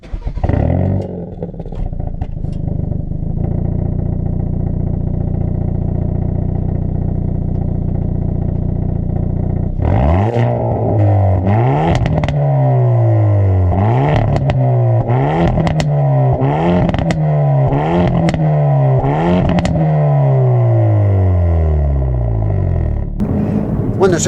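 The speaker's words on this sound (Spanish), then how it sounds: "ese es el sonido directamente del escape en el modo N, que es el modo más fuerte" A car's exhaust in its loudest N mode, started in a garage: a steady idle drone, then about ten seconds of repeated loud revs rising and falling close by, with no talk.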